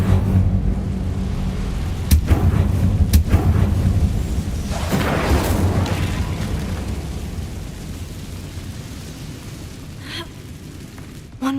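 An Incendio fire spell cast in Hogwarts Legacy, a loud, dense rumbling roar with a whooshing burst of flame and a few sharp cracks, sustained for several seconds before tapering off, with no talk.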